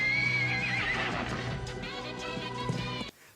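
A white horse neighs loudly with a long whinny, followed by hooves clopping in a steady rhythm, close and prominent before a sudden cut to near silence.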